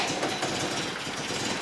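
An MGB engine idling with electronic ignition fitted, a steady low rumbling drone with a faint rhythmic pulse, fairly quiet and close.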